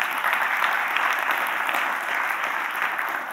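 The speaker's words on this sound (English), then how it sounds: "how about a round of applause for Intuit for open sourcing something?" Audience applause for Intuit in a conference hall, a steady dense wash of many hands clapping at moderate volume throughout, with no voices over it.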